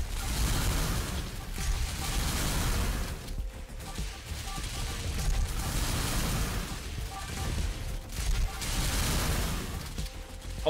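A missile launcher in the video game Survivors of the Dawn fires repeatedly on hard mode, a dense barrage of booming bursts and pops that swells and fades in waves across a busy game soundscape.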